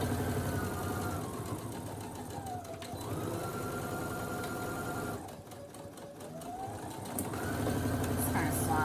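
Brother SE1900 embroidery machine stitching a design onto a Christmas stocking, a loud close mechanical whir with rapid needle rhythm, slowing and pausing twice as the stitching shifts before resuming.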